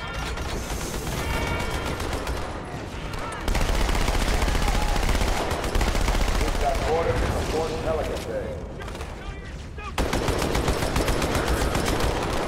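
Sustained automatic weapon fire and bursts of gunshots from the Halo 2 Cairo Station level, loud and continuous with explosive booms, under and between shouted voices.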